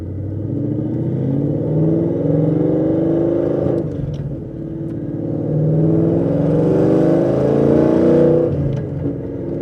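A 2016 Ford Mustang RTR V8 revving up to about 4,200 RPM, two loud swelling rumbles rising and falling close by, with the engine idling briefly between them and no talking.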